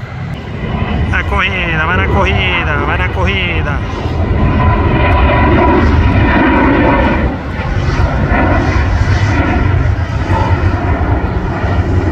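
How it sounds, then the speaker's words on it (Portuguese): A fixed-wing airliner takes off at Guarulhos airport, its loud engines roaring in a steady broad rumble that swells mid-clip, while someone talks over it throughout. "Já vamos pegar essa decolagem, aí."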